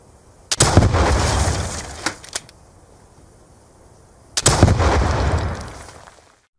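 Two heavy blasts of an RPG launcher firing in Call of Duty Black Ops 2, each a loud booming burst with a whooshing tail lasting a couple of seconds, separated by a few sharp mechanical clicks, with no talking.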